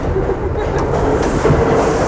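A New York subway train running on its tracks, a loud, close, continuous rumble with a faint clickety-clack rhythm and no voices.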